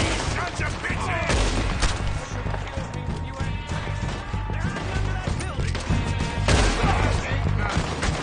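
Gunfire in the video game Red Dead Redemption 2: dense bursts of shots and impacts over a busy, continuous bed of game sound and score, with a voice talking at times.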